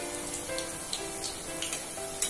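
Bread mendu wada cooking slowly over a low flame, giving a soft, steady sizzle and gentle crackle with a few brief pops, fairly quiet and close, with no voices.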